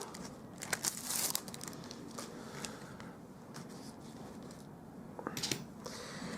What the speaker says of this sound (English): I'm going to bring out my brick wall embossing folder